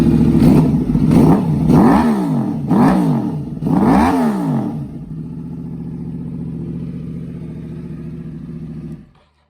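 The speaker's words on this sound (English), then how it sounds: "Crossplane engine right there." A 2011 Yamaha R1 with a crossplane engine and Toce exhaust revs hard several times in loud, rising-and-falling bursts, then settles into a steady, rumbling idle before cutting off.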